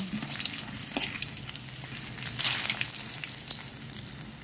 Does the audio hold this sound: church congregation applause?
no